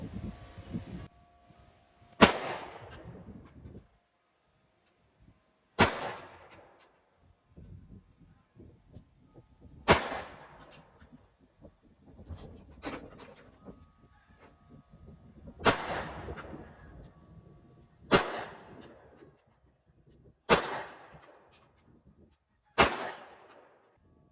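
Nine sharp firearm shots during shooting practice, fired one at a time every two to three seconds, each a loud close crack with a short echoing tail, with no talking between them.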